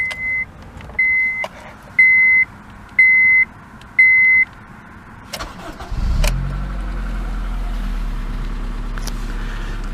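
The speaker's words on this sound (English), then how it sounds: "Typical ticky old K-Series engine." A 2002 Honda Civic Si with a K-Series engine and 5-speed manual gives five short chimes, then cranks, fires up close by and settles into a steady, slightly ticky idle.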